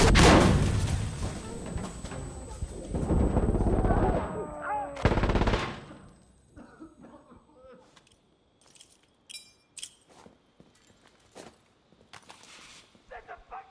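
Grenade explosion and gunfire in Insurgency: Sandstorm on the Outskirts map in Checkpoint mode: a loud, roaring blast fills the first seconds, then fades into scattered sharp gunshots and clatter at varying distances.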